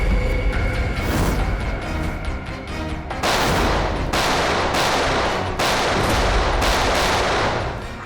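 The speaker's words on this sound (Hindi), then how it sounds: "Firing range." Rapid bursts of gunfire at a firing range, repeated loud cracks in dense clusters with brief pauses, near and continuous for the whole stretch with no talking.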